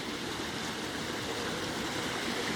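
Floodwater rushes through a ditch blocked after heavy rain, a steady broadband hiss and gurgle that is moderately quiet and continuous, with no voices.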